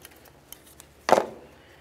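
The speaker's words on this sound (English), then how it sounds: "we can give it a little snip" A single short, crisp snip as a coolant hose for a 2007-2012 Nissan Sentra reservoir is cut to length, close and fairly quiet against a near-silent background, alone without speech.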